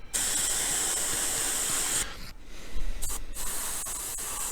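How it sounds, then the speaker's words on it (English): A paint spray gun sprays lacquer-thinned paint onto a masked model train layout piece, a loud steady hiss broken by a brief pause and a short second burst. "we're going to load up the gun, and we're going to spray this"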